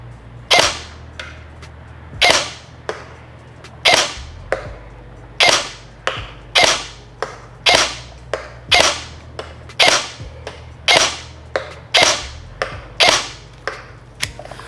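G&G G2 SR30 airsoft rifle firing BBs at a target 100 feet away: sharp snappy shots spaced about a second or more apart, each with a short mechanical tail, loud and close over a low background hum.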